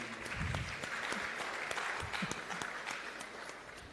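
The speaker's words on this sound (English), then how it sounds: "give them a round of applause for me, please" Audience at a public sector methodology launch event applauding the guest speaker, a dense wash of many hands clapping in a room, steady then tapering slightly.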